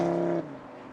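A 2016 Audi RS3 Sportback quattro hot hatch engine, 367 hp, gives a brief loud tonal growl that drops off abruptly after a moment, leaving a softer lingering rumble.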